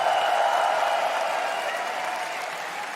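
A crowd applauding at the ESL One Berlin Major 2023 esports event, dense sustained clapping that fills the space and slowly fades a little toward the end.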